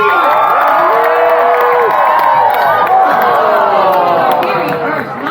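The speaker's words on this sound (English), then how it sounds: "you'll have to cheer them on just a little bit louder" A large, loud crowd of children and adults at an all-star stunt dog show at a state fair cheers and shouts continuously, with whoops and excited yelling filling the whole stretch.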